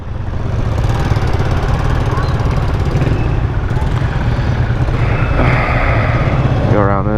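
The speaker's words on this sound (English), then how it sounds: "oh yeah, I'm on a motorcycle." Motorcycle engine droning steadily and loudly while riding through streets in Tagbilaran, Bohol, Philippines, with constant wind rumble and a brief horn-like tone near the end.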